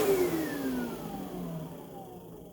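A Sebo Essential G1 upright vacuum cleaner runs steadily with a brush roll whine that slowly falls in pitch, fairly close and moderately quiet, with no talking.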